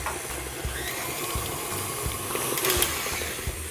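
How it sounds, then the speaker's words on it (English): Electric mixer beating cake batter on high speed, a steady whirring motor hum with faint rattling of beaters against the bowl, fairly quiet and close, with no talking. "Now I'll turn off my mixer"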